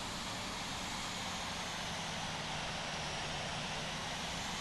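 Steady, unbroken roar of Boeing 787 jet engines on a takeoff run in the Infinite Flight simulator at San Francisco, a constant broadband rumble with no voices.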